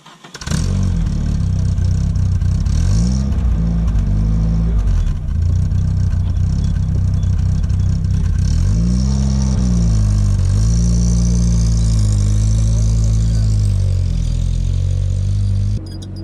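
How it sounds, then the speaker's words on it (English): A car engine running on 70% absinthe instead of normal fuel, a loud steady drone with repeated revs rising and falling as it drives, continuous throughout with no talk. "Driving on Absinth, because why not?"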